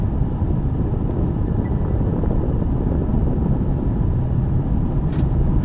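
Ford Mustang GT from 2021 with its stock exhaust, running on a test drive with a manual gearbox, giving a steady, loud low engine drone that fills the whole stretch without letup.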